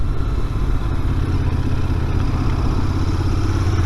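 A Royal Enfield Interceptor 650 on its first ride gives a loud, steady engine drone with a rumbling low end and constant wind rush, with no breaks throughout.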